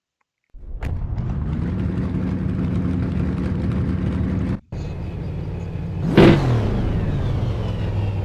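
BMW M4 F82 engine in the racing game Assetto Corsa, a loud sustained droning engine note that cuts out briefly, then returns with a sharp rev swell before settling into a steady hum.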